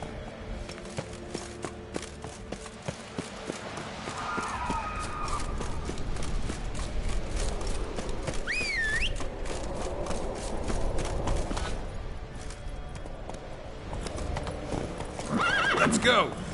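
Roach the horse gallops in The Witcher 3 with rapid, rhythmic hoofbeats, a loud whinny partway through, and someone talking over the clip-clop.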